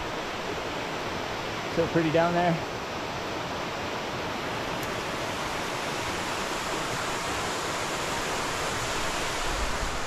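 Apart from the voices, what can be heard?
water rushing down a small water chute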